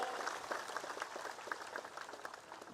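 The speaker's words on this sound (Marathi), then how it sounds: "जोरदार टाळ्या वाजून आपण त्यांचं स्वागत करावं" A crowd claps in a steady, rhythmic, continuous round at a political rally in Maharashtra as a Kinnar Akhara Mahamandaleshwar is welcomed on stage. Dense applause fills the whole stretch at even loudness, with no speech over it.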